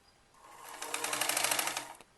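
A sewing machine stitches a kurti sleeve, its needle running in a fast, steady rattling burst that ramps up, holds for about a second and stops, close and clear with no talk.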